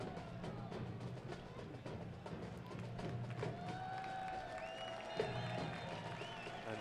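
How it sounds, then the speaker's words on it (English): A stadium crowd at a Louisville City FC versus Rochester Rhinos soccer match gives a ball boy a round of applause, soft distant clapping and murmur spread across the stands. "the ball boy getting a round of applause for retrieving the ball off the pitch"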